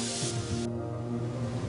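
Spray equipment coats steel sheets with enamel in an industrial factory setting, a steady hiss that cuts off partway through while a low machine hum continues underneath.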